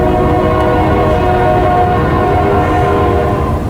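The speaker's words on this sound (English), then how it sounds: "That's a train." A loud passing train sounding a sustained multi-tone horn, with the heavy rumble of rail cars close by throughout.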